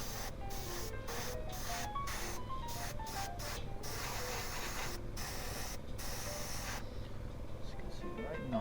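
An airbrush sprays a fine mist of Vallejo paint in an autumn oak leaf camouflage over a scale model, a continuous hiss broken by short pauses, with a voice talking throughout.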